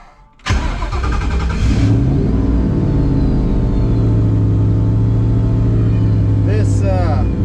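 A turbocharged Coyote V8 swapped into a Ford Fox Body cranks and bursts into life, then settles into a loud, loping idle close by, with someone speaking briefly near the end.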